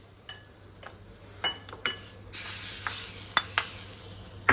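Dal hits hot oil with curry leaves in a pan of tempering for roasted raw banana chutney, a close, crackling sizzle that swells and keeps going, with spoon clinks against the pan.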